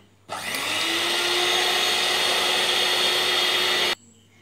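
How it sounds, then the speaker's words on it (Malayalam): An electric beater whips eggs with lemon juice and white vinegar for a cream cake, a steady motor whine running for about three and a half seconds with a clear start and stop, with no talking over it. "ഇനി നമുക്കിതെല്ലാം നന്നായിട്ടൊന്ന് ബീറ്റ് ചെയ്ത് കൊടുക്കാം."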